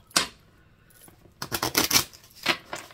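A deck of stress-relief cards is shuffled by hand: a sharp riffle near the start, a quieter pause, then a rapid run of papery flutters and snaps, with a final burst of card rustling close to the mic.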